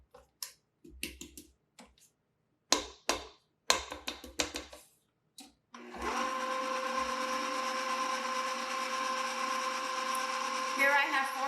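An electric mixer blends Easter grain pie filling in a bowl. Scattered clicks and taps come first, then the motor starts and holds a steady, loud whir for the second half.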